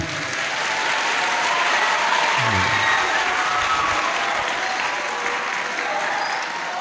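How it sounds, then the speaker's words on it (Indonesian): Audience applause at an Isra Miraj school talk show at SMP Negeri 1 Magetan, a steady dense clatter of many hands filling the hall, loud and continuous throughout with a low voice murmuring briefly beneath. "Tepuk tangan."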